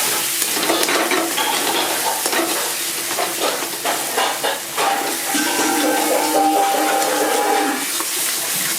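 Potatoes and spices stir-fry in a pan for a chickpea curry, with a steady sizzle and repeated scraping and clinking of a spoon stirring against the pan throughout.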